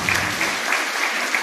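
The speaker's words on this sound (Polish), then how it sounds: "Wielkie brawa dla pana marszałka." Applause from an audience at a regional seniors' gathering in Silesia, greeting the regional marshal as he comes to the stage: steady, dense clapping throughout, with no voices over it.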